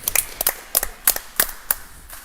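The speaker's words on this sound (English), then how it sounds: "Always clap a block" Around seven sparse, separate claps from a few spectators at an indoor bowls game, acknowledging a block; light, quiet and unhurried over about two seconds.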